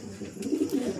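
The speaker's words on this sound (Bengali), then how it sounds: "দেখো কি সুন্দর পায়রা দুটো" Pink-shouldered pigeons, a male and female pair, coo softly in low repeated murmurs close by, with no other sounds around them.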